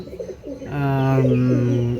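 Pigeons coo loudly and close by in a pigeon house, with a few soft throaty calls followed by a long sustained rolling coo.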